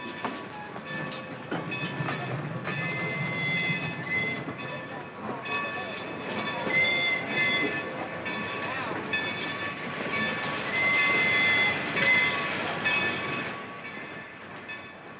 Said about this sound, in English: That's a train backing in on the other track.